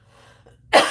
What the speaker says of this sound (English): Okay, I coughed.